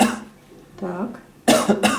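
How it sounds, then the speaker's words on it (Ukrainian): During a physical examination of the respiratory system, a patient coughs sharply a couple of times on request, close up, after a short burst and a quieter voiced sound. "Так, покашляйте, будь ласка."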